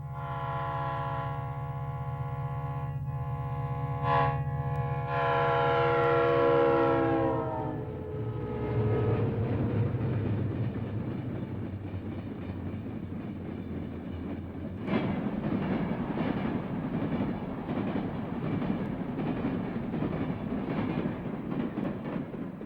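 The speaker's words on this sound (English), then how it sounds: "a high-priority hot sulfur train from New Mexico passes" A Santa Fe freight train carrying hot sulfur sounds a loud, drawn-out horn as it approaches, then heavy rumbling and rhythmic clattering of wagons rolling past nearby.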